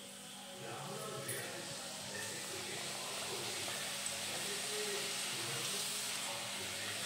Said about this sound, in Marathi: आता आपलं तेल तापलेलं आहे। आता आपल्याला तळून घ्यायचं आहे।